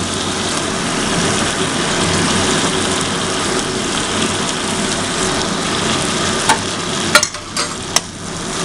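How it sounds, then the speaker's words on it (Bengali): Soybean curry, Bengali home style, being stirred in a pan right after tomato sauce goes in: a steady close sizzle and scrape with a few sharp utensil clicks near the end, no voices. "এবারে সামান্য জিনিসটাকে নাড়াতে হবে"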